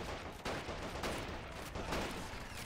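Dense, continuous machine gun fire and scattered shots in the WWII strategy game Men of War: Assault Squad 2, a constant crackling barrage at fairly low level with no pauses.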